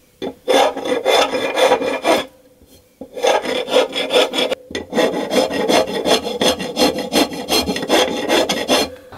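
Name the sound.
tool smoothing and tapering a wooden axe handle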